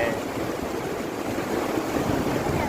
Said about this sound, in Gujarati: એટલા મોજા આવે છે